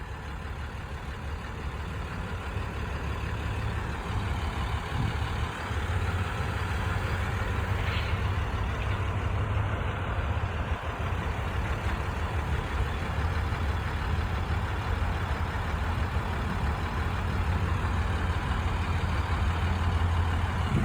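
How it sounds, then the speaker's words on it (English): Road traffic flows steadily past a three-car crash scene at a highway junction, a continuous low engine and tyre rumble with idling vehicles close by. "look at the traffic"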